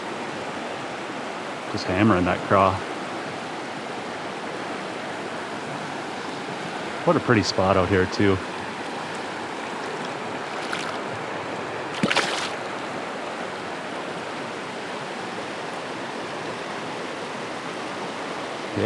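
Steady rushing flow of a river on a hot summer day, heard while wading and fishing for smallmouth bass, a constant broadband wash heard close, with brief talk over it at a few points.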